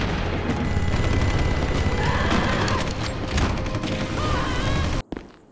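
Gunfire from the video game PUBG, a loud, continuous clatter of rapid shots and blasts filling the clip before cutting off abruptly near the end, with no talk.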